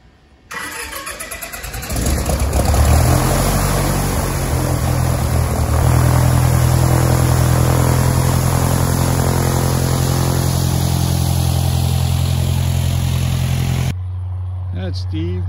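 A small propeller airplane takes off on a first solo flight, its engine swelling from a low idle to a steady loud full-power drone, with voices talking over it before it cuts off near the end.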